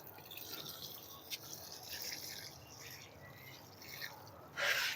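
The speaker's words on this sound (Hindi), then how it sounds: "पानी आपने इस तरह के शावर से लगाना है।" Water sprinkles from a shower-head watering can onto methi and radish plants growing at home. Faint trickles and drips are followed by a louder, closer burst of spray at the end.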